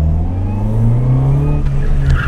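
A Junior 1000 rally car being tested through a hairpin, its engine droning loud and close with a steady low roar and shifting pitch, plus a brief tyre scrub near the end.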